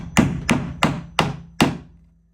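PEX connector clamps are fastened to a wall with five sharp, evenly spaced hammer-like knocks, close and clear, fading after the last strike, with no talk.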